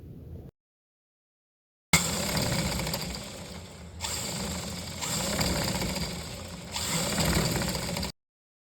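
A sewing machine stitches kurti fabric, running loud and steady in several continuous bursts with brief changes in pace after a short silence.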